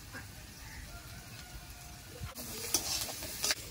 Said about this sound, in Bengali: এবার একটু জিরে গুঁড়ো দিয়ে নেড়ে চেড়ে জল দিয়ে দেবো